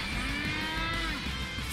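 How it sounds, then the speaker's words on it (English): Cows mooing in the Metal Gear Rising video game, a long drawn-out bovine moo with layered harmonics rising and falling over a steady game background, loud and continuous throughout. "Fucking cows!"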